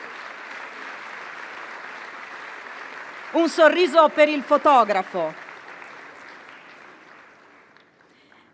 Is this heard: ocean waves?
no